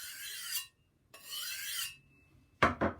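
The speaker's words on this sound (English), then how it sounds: "I'm just going to wipe this across this steel" A kitchen knife is drawn across a new, crisp diamond sharpening steel in a few close, gritty rasping strokes, ending with two quick, sharper scrapes, with nothing else heard.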